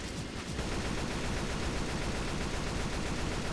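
Continuous rapid gunfire from a video game, aimed at a wall, fills the whole stretch as a dense, loud, unbroken rattle with no pauses.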